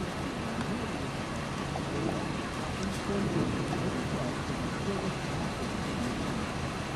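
Heavy rain from a high-precipitation tornadic supercell near Kirksville, Missouri, a dense, steady hiss of downpour with faint low rumbling, continuous and loud throughout.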